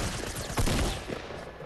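Video game gunfire as a shotgun fires, with several sharp blasts close together under a steady din of game sound. No one speaks.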